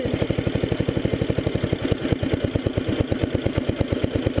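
A 1975 Sears Suburban ST16 garden tractor engine idles close by with a fast, even putter and a slight clatter, holding a steady beat for the whole stretch.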